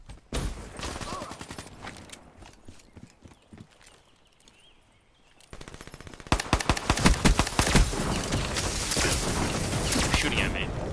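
Rapid automatic gunfire in Black Ops 3: faint, scattered shots give way to a lull, then dense bursts of loud, close firing run to the end, with game sounds under them.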